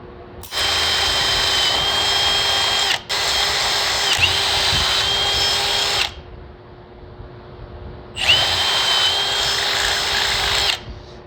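A Ryobi power drill whirs at steady high speed in close, loud bursts, running about two and a half seconds, then three, stopping, and starting again for another three-second run.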